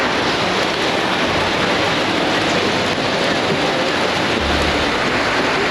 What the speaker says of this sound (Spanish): lloviendo con todo. Se vino fuerte